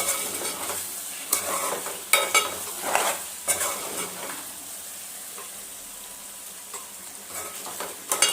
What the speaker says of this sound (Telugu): ఇప్పుడు ఒకసారి కలుపుదాము